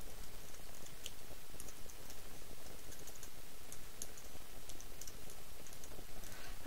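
Typing on a computer keyboard: a quiet, steady patter of small key clicks running throughout, with no voices.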